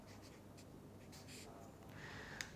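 Chalk or pen writing on a board during a lecture, heard as faint, scratchy strokes in short intermittent bursts over quiet room hum.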